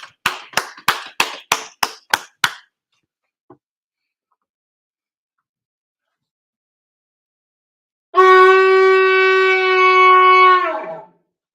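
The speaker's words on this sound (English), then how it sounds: "All right, let's clap it up." Church congregation clapping at a Sabbath service: about eight sharp, evenly spaced claps up front, then silence, followed by a loud sustained sung or chanted tone near the end.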